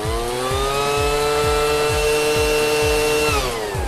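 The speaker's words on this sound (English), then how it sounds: "You can even blast it with this super strong industrial strength blower and the tablet doesn't fall off." An industrial-strength blower blasts air at a tablet mount, giving a loud, steady motor whine with a rhythmic pulsing beneath it; the pitch sags slightly near the end.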